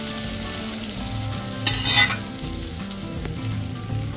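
Sago pearls hit a pan of roasted green chilies and sizzle steadily, with a brief louder crackle and stirring scrape partway through.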